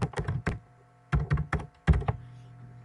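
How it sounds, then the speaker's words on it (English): Typing on a computer keyboard, entering a place name: three close, fairly loud bursts of rapid key taps separated by short pauses, with no voice over them. "So here we can type in New Brunswick."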